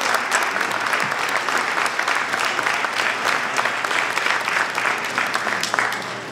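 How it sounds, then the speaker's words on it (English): A room of attendees at an awards event in Trenton claps for elected officials, a continuous, even wash of applause from a sizable crowd lasting the whole stretch, with no talking over it. "if we have a nice round of applause for all the elected officials"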